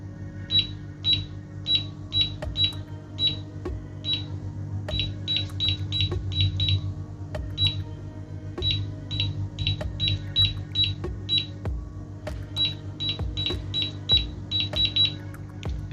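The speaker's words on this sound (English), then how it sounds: "You will get 2 beep and green light." Rapid bursts of short, high electronic beeps from an Easthouse fingerprint safe lock keypad as codes are entered, arriving in irregular clusters of key presses over a low steady hum.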